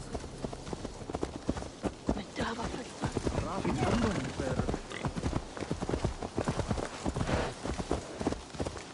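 Steady rhythmic hoof clops of a horse on a hard surface in the video game Assassin's Creed Valhalla, close by, running under talking voices and background game sounds.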